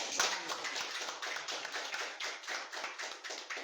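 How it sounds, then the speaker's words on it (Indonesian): A small group in a podcast studio claps for Bob: a quiet, steady patter of hand claps for a few seconds, slightly distant and thin, with no one talking over it. "jadi tepuk tangan untuk Bob"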